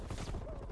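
Shotgun blasts in Call of Duty gameplay, an EM2 class loadout match, with heavy, close booming shots clustered densely over a short burst and game sounds layered underneath.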